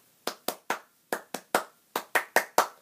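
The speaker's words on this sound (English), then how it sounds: "stand up and clap your hand" About a dozen sharp hand claps from one nearby person during a cheer routine, spaced irregularly in short bursts, crisp and isolated against silence.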